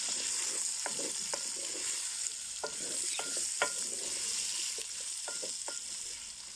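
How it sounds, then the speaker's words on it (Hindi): Onions frying in a pan with a steady, hissing sizzle, punctuated by soft, occasional scrapes of a spoon stirring them, close and moderately loud. "तो अब डालेंगे इसमें हम प्याज। 2 अदद प्याज लिए हमने। इनको भी अच्छी तरह भून लेंगे साथ।"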